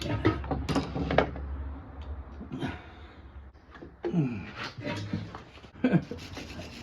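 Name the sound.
screwdriver loosening a rounded screw on Yamaha Virago 250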